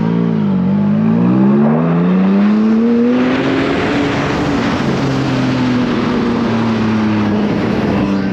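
A Porsche Cayman GT4 with a straight-pipe exhaust revs hard with a raw, unmuffled exhaust note, climbing in pitch, then holding a steady throaty rumble.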